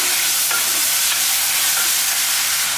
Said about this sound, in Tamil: இந்த அளவுக்கு நல்லா வதக்கிடலாம்